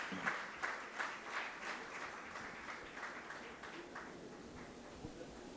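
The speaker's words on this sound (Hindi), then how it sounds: "जोरदार तालियां इन" An audience at an Urdu poetry game event in Bhopal claps steadily, a sustained round of applause with a few louder individual claps up front that gradually eases off.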